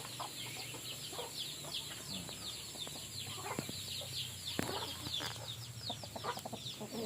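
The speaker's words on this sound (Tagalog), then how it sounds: "nagpapatuka tayo ng manok" A flock of meat chickens and chicks clucks and chirps softly while being fed, with scattered pecking taps and rustling at a little distance over faint background hum.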